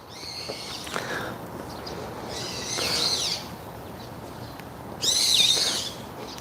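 Birds call at dawn in historic Gyeongju, South Korea, three harsh, scratchy bursts at fairly close range, the last one loudest, over a steady outdoor hiss.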